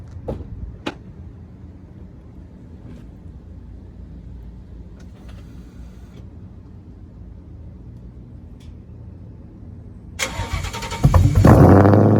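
A car fitted with a new Corsa Extreme cat-back exhaust cranks and fires up near the end, its engine catching loudly and rising into a deep rumble after a long stretch of quiet low background.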